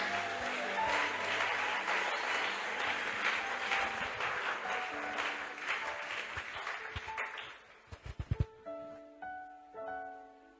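A church congregation applauding to acclaim the Lord during a sermon, dense sustained clapping that fills the room, then thins into a few scattered claps and fades toward the end.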